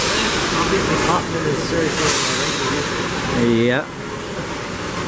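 Interior rumble of a subway shuttle train ride on R1-9 cars between Brighton Beach and Ocean Parkway, a steady loud hiss and roar with a brief voice partway through before the noise drops slightly.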